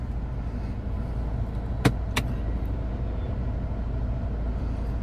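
Idling Citroën C4 Picasso with its parking brake released, a steady low engine hum broken by two sharp clicks close to the microphone; no voices.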